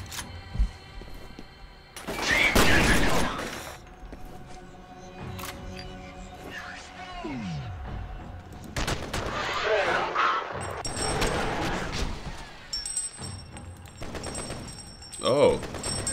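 Burst rifle fire in the video game FEAR comes as a few sharp, loud clusters of shots with quieter game ambience and someone talking between them.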